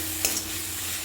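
A spoon scrapes and stirs crab masala in a pan over a steady background sizzle, with one short clatter near the start.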